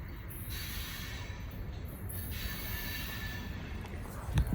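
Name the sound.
Cincinnati Eastern Railroad 34-car rock train passing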